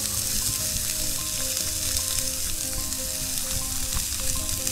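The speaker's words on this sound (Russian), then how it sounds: "И нам на этом масле нужно будет прожарить лук." Onions fry in oil in a pan while cooking shakshuka outdoors on a fishing trip, producing a loud, constant sizzle with crackling pops, close up with no talking.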